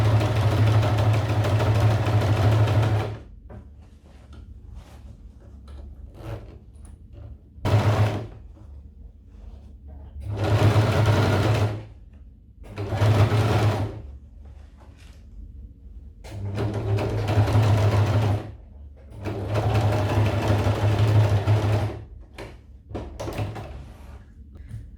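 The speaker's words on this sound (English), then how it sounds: "we're just going to sew it to this point here" A sewing machine stitches a trouser fly in several bursts of steady motor hum, with short pauses between runs; close and fairly loud, with faint handling noises in the gaps.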